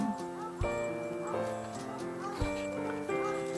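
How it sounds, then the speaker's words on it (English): Several horses lope up a field together during a ranch riding demonstration, a gray among them, with soft repeated hoofbeats under musical, tonal background sound. "we're going to have the horses just go ahead and lope up the field"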